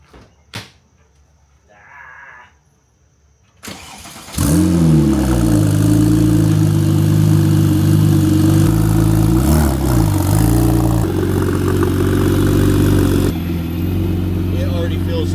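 A rebuilt Porsche 997 Turbo fitted with new wheels, tires and suspension starts its first drive: a short door or cabin thump, then a steady loud engine drone with rising and falling revs as it pulls away, heard from inside the car.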